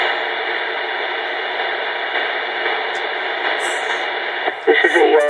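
A Cobra 29 CB radio from 2015 fitted with an echo board, carrying a loud, steady transmission with static and a filtered, band-limited voice, ending in a burst of garbled keying noise.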